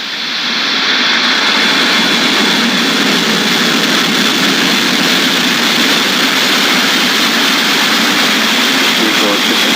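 SpaceX rocket engines at liftoff on a Starlink mission, a loud, sustained broadband roar that fills the whole stretch without letup.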